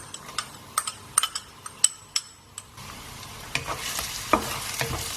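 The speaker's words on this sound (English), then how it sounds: "we're going to saute our onions till they turn translucent" Onions sautéing in hot oil for mince cutlets, with a steady sizzle under sharp intermittent clicks and scrapes of a spoon against the pan, the frying growing louder and denser in the second half.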